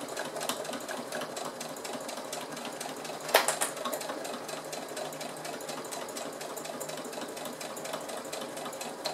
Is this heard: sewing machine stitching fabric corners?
yes